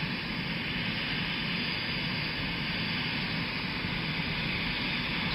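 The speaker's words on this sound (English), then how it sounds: "cranking down the engines now." Large aircraft jet engines wind down on an airport apron after a presidential departure, giving a loud, steady broadband roar that fills the whole stretch with no voices over it.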